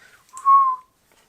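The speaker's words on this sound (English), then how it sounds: "you can whistle with your funny lip" A single short whistle made through the lips, a clear rising-then-steady tone lasting under half a second, close and fairly loud against an otherwise quiet room.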